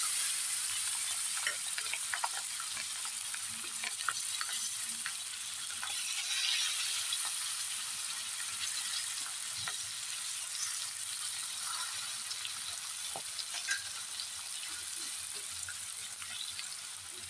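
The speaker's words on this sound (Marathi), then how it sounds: "ही लसूण चांगली फ्राय झाली पाहिजे" Garlic, red and green chillies and curry leaves sizzle steadily in hot oil in a kadhai, a constant crackling hiss with occasional sharper pops and faint stirring, heard close up.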